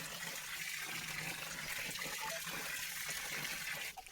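Water gushes steadily from a newly fitted bathroom SWR pipe with strong pressure, a close, continuous rushing flow that cuts off abruptly near the end.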